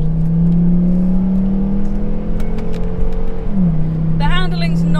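Car in semi-auto mode driving and accelerating, a steady engine drone and whir rising in pitch before a gear change, heard from inside with a voice talking over it.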